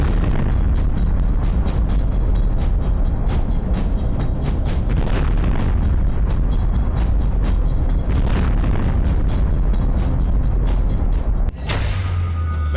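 Loud explosions crack and boom at night in Bakhmut in a rapid, irregular series, one after another, over a constant low rumble.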